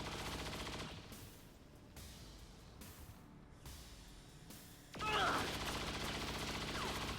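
Covering-fire gunfire in XCOM 2 rolls on as a continuous, dense fusillade, quiet and distant, swelling louder for the last couple of seconds.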